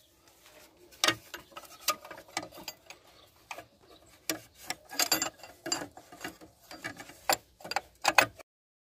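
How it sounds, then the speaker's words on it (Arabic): Ratcheting and metallic clicks of an 18 mm wrench loosening bolts on a 2007 Ford Explorer during a power steering pump replacement, coming in repeated bursts of close, sharp clatter with short pauses between. "راح نفتح اول شيء بمفتاح رقم 18"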